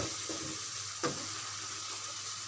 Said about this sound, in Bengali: সেটা এখন আমি এটার সাথে ভালো করে কষিয়ে নিব।